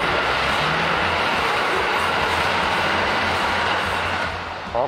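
The Limited Express Nanki diesel train revs its engine as it passes near a railway crossing, a loud, dense, continuous rumble that fills the whole stretch and eases off only at the very end.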